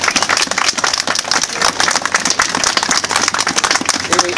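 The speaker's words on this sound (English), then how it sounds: "I think a little bit of a round of applause to everyone who came out." Dense, loud crowd applause at a street demonstration rally, a continuous wash of many hands clapping close by that stays steady throughout with no talk over it.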